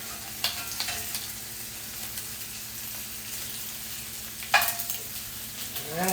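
Food sizzles and crackles steadily in a pan right after being flipped, with a couple of sharper scrapes and spatters standing out over the continuous frying hiss.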